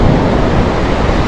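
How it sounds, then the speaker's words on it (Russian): Big storm waves at a Black Sea shore near Lazarevskoye roar and crash in a loud, steady broadband rush, with no voices. "Вот приближается обалденная волна"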